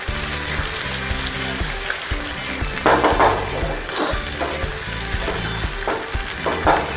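Paneer bhurji frying in a pan: a loud, continuous sizzle with bursts of scraping and stirring that come and go throughout, close up and with no talking.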